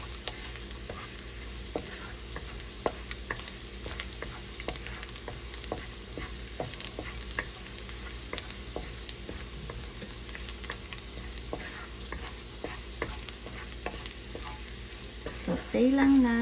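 Ginger sautéing in a pan, a soft steady sizzle with scattered sharp ticks and pops as the pieces fry, with a brief tonal sound near the end.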